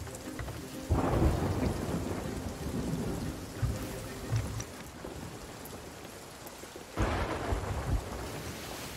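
Stormy weather at sea in the pirate game Sea of Thieves: steady hissing rain with two heavy rumbling thunder swells, loud and close, without talk.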